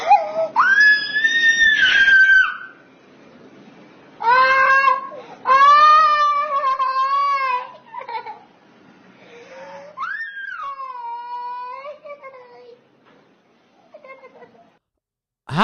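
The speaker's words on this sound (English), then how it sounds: "now she's screaming like a child" A woman screams in long, high, wavering bursts, several drawn-out wails split by short pauses, loud and close, with no other voices.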